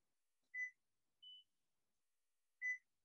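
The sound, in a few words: kitchen oven timer beeping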